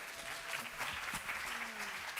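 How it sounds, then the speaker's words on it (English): Faint, steady applause from an audience at a pitch competition, distant and thin, holding evenly for a couple of seconds with faint background voices. "An applause"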